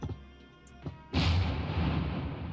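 A single heavy Minecraft tank cannon blast erupts after a quiet stretch, followed by a loud rumbling roar that lingers to the end.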